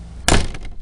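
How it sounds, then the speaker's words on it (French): A wooden chicken coop door is slammed shut, one close, loud broadband bang with a short rough decay over faint background noise. "la claquer comme ça et elle est fermée"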